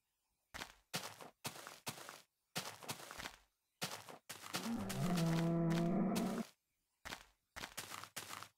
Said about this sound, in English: Shut your mouth, cow.